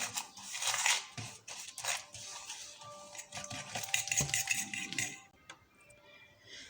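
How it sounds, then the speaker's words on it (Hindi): Brown sugar is stirred into a French toast mixture in a bowl, with rapid metallic clinks and scrapes of a spoon or whisk against the bowl's sides that soften toward the end. "इसमें मैं ये ब्राउन शुगर ऐड कर लूँगी, इसको अच्छे से मिक्स कर लूँगी"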